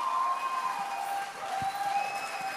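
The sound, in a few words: audience applause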